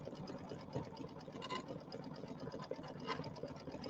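An embroidery machine sews a satin stitch on a witch's hat and pumpkin row design, a quiet, continuous rapid mechanical whir with faint rhythmic ticking throughout.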